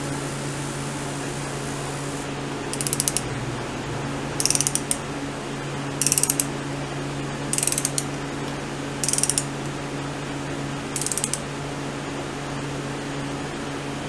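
Six short bursts of ratchet clicking from tightening a part on a Royal Enfield Bullet motorcycle, evenly spaced every second or so over a steady background hum, close and crisp.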